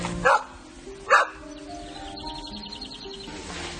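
Two loud, close dog barks, about a second apart, ring out in a shelled, emptied town of two-storey houses, followed by a steady background hum and faint bird-like chirps.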